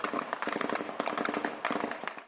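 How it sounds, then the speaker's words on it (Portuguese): Rapid, dense volleys of gunfire crackle during a police operation against traffickers in a Rio favela, shots overlapping in irregular bursts at a moderate distance with no pauses. "Eram muitos tiros disparados por traficantes e policiais civis e militares"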